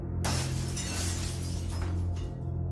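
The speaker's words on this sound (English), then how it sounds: "With brutal force, they shattered the door window" A car door window shatters with one sudden, loud burst of breaking glass that sprays on for about two seconds over a low steady rumble.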